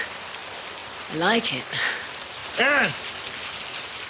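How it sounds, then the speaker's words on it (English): Rain falls steadily as a soft, even hiss that fills the background, while a voice speaks a few short words over it. "Rain. Is that what you call this?"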